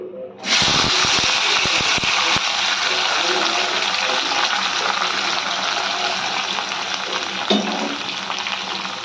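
Chopped onion, garlic, ginger and green chili hit hot oil with a loud, steady sizzle that continues for several seconds, with a few stirring scrapes early on.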